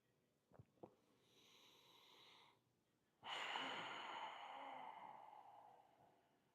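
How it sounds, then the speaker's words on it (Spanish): Slow breathing through the nose during a yoga pose, a couple of brief sniffs followed by a soft long inhale, a pause, then a fuller rushing exhale that fades gradually; quiet and close. "Seguimos respirando por la nariz."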